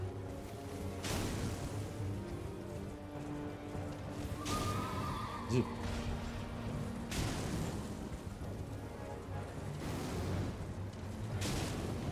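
A horse whinnies loudly during a mounted duel in Elden Ring over steady rumbling background sound and music, with a few thuds and impacts as the horse rams.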